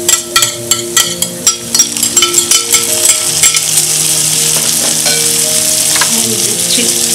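Tomatoes frying for a prawn masala, with a utensil scraping and clanking against the pan in quick strokes at first, then a loud, steady close sizzle.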